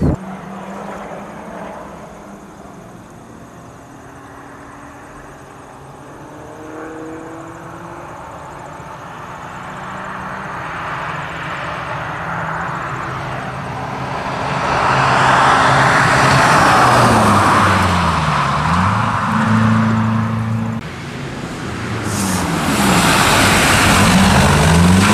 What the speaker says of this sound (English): Hyundai i30 diesel, yeah.